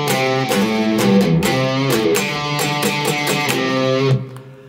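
Distorted electric guitar plays a repeating riff, loud and close, with quick hammer-on notes picked in a steady driving rhythm and the last note ringing out briefly before stopping.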